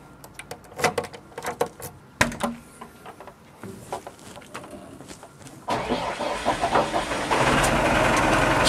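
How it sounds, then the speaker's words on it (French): A JCB backhoe loader's engine cranks with a new battery, irregular clattering and knocks, then catches and settles into a steady, loud diesel run close by, with no talk. "Quart de tour avec la nouvelle batterie"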